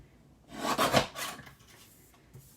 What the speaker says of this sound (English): we're gonna take our little mini cutter